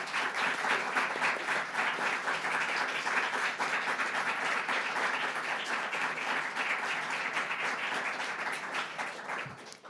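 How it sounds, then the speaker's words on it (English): Sustained audience applause fills a medical honor society induction ceremony, many hands clapping in a dense, steady roar for nearly ten seconds before tapering off at the end. "a big round of applause for everybody who's brought you here"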